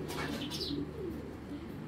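Racing pigeon squabs of long-distance bloodlines, black checker with imported Janssen and Koopman lines, coo softly and steadily in a loft over a continuous low background hum, with faint chirps.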